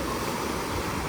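Sea waves washing far up the shore, a loud, continuous rushing wash with no voices.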